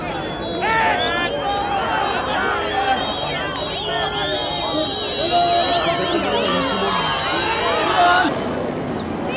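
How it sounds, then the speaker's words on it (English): Dense crowd noise at Nelson Mandela's release from prison, with many excited overlapping voices, shouts and cheers swelling together, a loud continuous roar that drops away at the end. "And the crowd getting excited."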